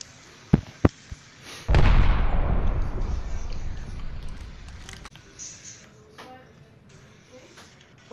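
Video-game gunfire in Apex Legends: a few sharp distant shots, then a loud burst-like blast whose roar slowly decays over several seconds, followed by scattered faint shots and rumbles.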